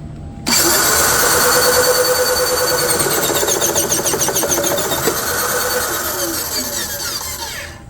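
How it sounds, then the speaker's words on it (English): Circuit breaker spring-charging motor powered from a 250 VDC supply, starting abruptly and whirring steadily at close range for several seconds, then tapering slightly toward the end. "now I'm gonna test the motor and see how it charges."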